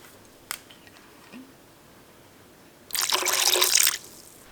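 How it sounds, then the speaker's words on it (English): Raw unfiltered apple cider vinegar poured into a kitchen mixture, a short soft splashing pour of about a second after a few faint clinks, quiet and close. "So instead, I'm going to use raw, unfiltered apple cider vinegar."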